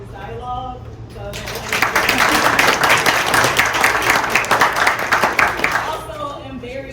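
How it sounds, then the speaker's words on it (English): Applause from an audience at a Black History event breaks out after a moment of talk, building into sustained, dense clapping that fills most of the stretch before tapering off, with speech faintly underneath. "So Rachel, I just want to give you a round of applause"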